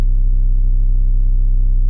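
A raw sine bass tone signal for a hip-hop beat, a loud, steady low hum with a slight harmonic buzz, held for about two seconds and then cut off abruptly.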